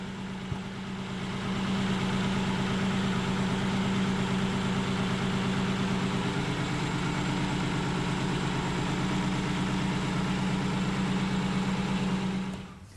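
A boat engine idles steadily at close range, a low throbbing rumble with a constant pulse that continues unbroken for the whole stretch.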